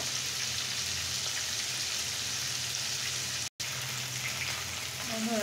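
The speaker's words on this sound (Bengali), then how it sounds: "এখন আমি এটাকে খুব সুন্দর করে ফ্রাই করে দেব।" Fish frying in hot oil, a constant rain-like crackling sizzle held at an even level, broken once by a brief dropout, with faint tonal sounds near the end.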